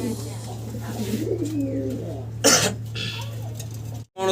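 Pigeons at a breeding farm coo in soft, low, rolling calls close by, broken once by a short burst of noise midway.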